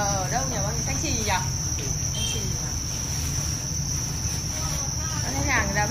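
Crickets on a cricket farm chirp in a dense, constant high-pitched drone, with faint voices briefly audible in the background.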